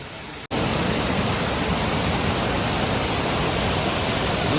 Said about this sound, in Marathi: पापेश्वर का धबधबा आहे बघा